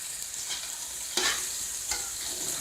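Chicken fried rice with black pepper is stir-fried in a pan, giving a soft steady sizzle with a few sharp scraping stirs, close and quiet, with no speech.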